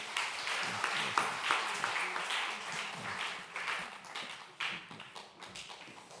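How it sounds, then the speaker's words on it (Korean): A church congregation at a Sunday young-adult worship service breaks into warm applause after a prayer, a dense, continuous patter of many hands that rises and falls in gentle waves over several seconds, with faint voices underneath. "우리 뜨거운 박수로 하겠습니다."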